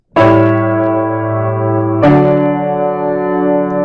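Two sustained four-voice chords ring out, a dominant seventh held about two seconds before resolving into the tonic, clear with a slight echo.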